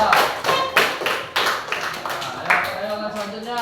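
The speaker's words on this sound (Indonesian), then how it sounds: "kita kasih tepuk tangan untuk kelompok 2" Classroom group clapping hands for another group of students, several uneven bursts of claps close by, with some voices mixed in.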